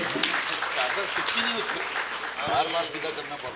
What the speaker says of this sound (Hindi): जोरदार तालियां मखदूम सर के लिए।